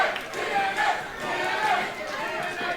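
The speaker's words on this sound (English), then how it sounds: "The crowd are chanting TNA in appreciation for Leon Slater." Wrestling arena crowd at a No Limits Championship four-way match chanting in rhythmic waves, loud and dense, with a steady roar of many voices filling the space.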